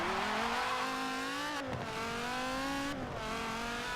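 A high-revving sports car engine in the video game Forza 7 screams upward through gears, two quick shifts dropping the pitch before it climbs again, loud and close.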